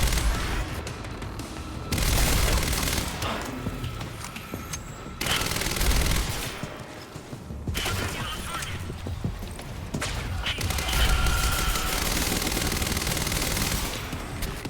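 Sustained automatic gunfire from a tactical SMG in the video game Quantum Break, loud and close, coming in long dense bursts separated by short pauses, with booming impacts mixed in.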